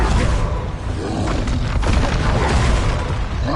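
The Confringo fire-blast spell from Hogwarts Legacy erupts with a loud, booming explosion and whooshing rumble, a broad roaring burst that stays dense for a few seconds.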